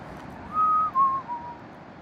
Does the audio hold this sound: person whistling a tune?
yes